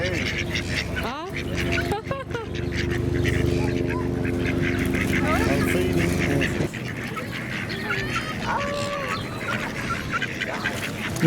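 Ducks and geese quack and honk along a lakeside quay in Queenstown, New Zealand, a busy mix of calls close by over steady outdoor murmur and distant voices throughout.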